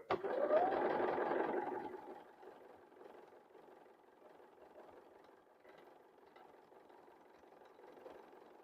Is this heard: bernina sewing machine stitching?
yes